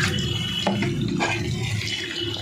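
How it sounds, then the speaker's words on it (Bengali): Water from a tap runs and splashes into a bowl in a home kitchen while fish curry is being cooked, a steady, soft rushing with light splashes, close by and without talk. "বাটিটার মধ্যে একটু জল দিয়ে ওটা দিয়ে দেবো।"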